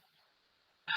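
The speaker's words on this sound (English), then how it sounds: "Oh, that's my dog." A dog gives one sharp, loud bark right at the end, breaking an otherwise near-silent stretch.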